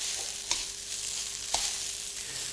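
Noodles and vegetables sizzle steadily in a high-sided fry pan, with two sharp scrapes of a utensil stirring them, close and clear with no talk.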